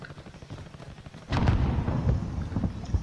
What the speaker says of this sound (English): I hear gunfire, or that may be vehicles blowing up from the gas.